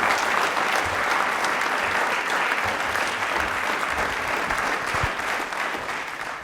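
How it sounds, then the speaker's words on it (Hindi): Audience applause in a television quiz show studio, a dense continuous clapping from a large crowd lasting several seconds and fading slightly at the end. "एक बार जोरदार तालियों से हम उनका स्वागत करेंगे।"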